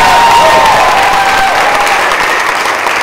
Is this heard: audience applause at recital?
yes